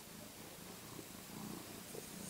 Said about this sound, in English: my cat is saying hello to me